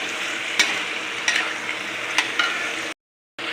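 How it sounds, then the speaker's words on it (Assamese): Chicken and potatoes frying together in a pan, a soft steady sizzle broken by a few sharp scraping stirs, then a brief cut to silence before the frying resumes. "মাংসখিনি দি এতিয়া একেলগত মাংসৰ লগত ফ্ৰাই কৰি ল'ম আলুখিনি।"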